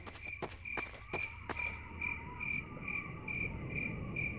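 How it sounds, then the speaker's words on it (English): Crickets chirp in a steady, evenly pulsed rhythm against a quiet night background in a virtual reality world, with a few soft footstep-like thuds near the start. "You hear the crickets."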